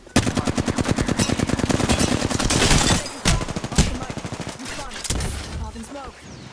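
Rapid automatic gunfire from Apex Legends, long bursts of close, loud shots in a fast steady rhythm, then scattered single cracks and shorter bursts tapering off.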